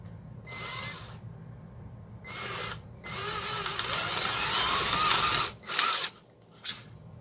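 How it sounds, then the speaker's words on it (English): A 1-1/8 inch (28 mm) hole saw drills into a dried bottle gourd, grinding in several close bursts of whining, rasping cuts with short pauses between, loud and clear with no talk. "I'm going to be using a hole saw to do this."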